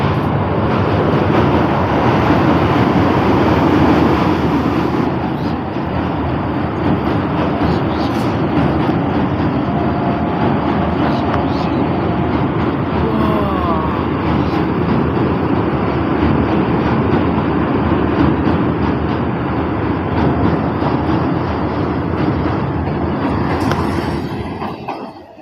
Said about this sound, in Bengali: এই ট্রেন ঢুকছে দেখো।